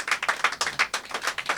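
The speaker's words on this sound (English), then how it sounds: "can we give her another round of applause?" A small workshop audience claps, a sparse, distinct run of individual hand claps in an uneven rhythm, close and clear with no talking.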